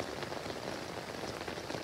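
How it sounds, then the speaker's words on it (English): Light rain patters on a tent tarp at a rainy campsite, a close, steady field of soft taps and drips that runs through the whole short stretch with no talking. "There's still a tiny bit of rain pattering on the tarp."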